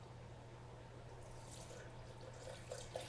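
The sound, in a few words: pouring broth into a pot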